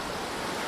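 Fast-moving creek water rushing near Ribbon Falls in the Grand Canyon, a steady, loud broadband roar with no break through the whole short stretch, close by and with no voices.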